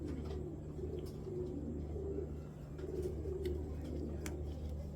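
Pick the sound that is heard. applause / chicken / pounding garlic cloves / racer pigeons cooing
racer pigeons cooing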